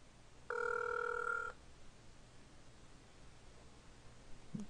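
A telephone rings in a single continuous burst lasting about a second, clear and fairly close, followed by quiet room hiss with faint rustling.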